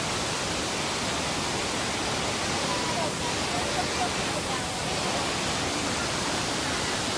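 Steady broadband roar of a turquoise-water waterfall near Luang Prabang, Laos, rushing continuously and fairly close, with no break for the whole stretch.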